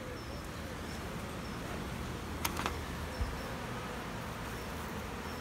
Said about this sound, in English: Buzzy bees.